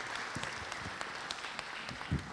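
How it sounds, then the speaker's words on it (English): Light, fairly sparse applause from a leadership summit audience, individual claps audible at moderate distance, with a faint voice briefly in the background. "A big round of applause to Mr. Brian Tracy."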